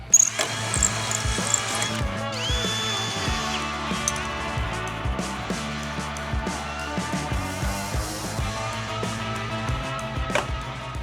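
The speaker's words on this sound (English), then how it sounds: "One more hole to drill and this transmission's fully mounted," Drilling a hole to mount a transmission in a Tacoma, a power tool grinding in uneven stretches with knocks and clatter, close and moderately loud, with no voices.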